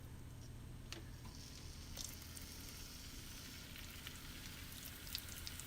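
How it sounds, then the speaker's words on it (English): Frikadellen, German meatballs, frying in hot oil in a pan, giving a steady broadband sizzle with faint crackles and pops throughout, close and continuous, with no talking. "I heated some oil and I will now add them to the pan"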